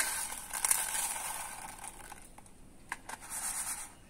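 Dry homemade rice, sun-dried until brittle, crackling and rustling softly as it is handled, with faint scattered crinkles and a few sharper clicks, close and quiet with no talk.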